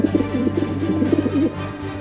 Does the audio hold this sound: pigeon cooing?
yes